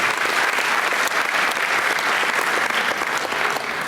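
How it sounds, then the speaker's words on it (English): A crowd at a drum corps show applauds loudly and continuously, dense clapping holding steady throughout with no pauses. "a big round of applause for everybody that showed up to help volunteer over that weekend"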